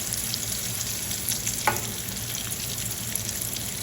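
Quiet, steady sizzling and bubbling of vegan arancini frying in hot oil, a continuous crackle with one small pop partway through.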